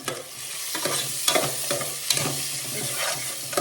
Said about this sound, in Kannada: ಇದು ನೋಡಿ ಈರುಳ್ಳಿ ಫ್ರೈ ಆಗಿದೆ